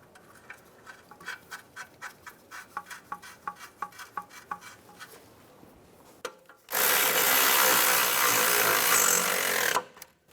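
Hand tools work on a 2004-2010 BMW X3 rear control arm bushing, first a run of quick rhythmic clicks like a ratchet tightening the nut, then a loud continuous whir of a power tool for several seconds before stopping.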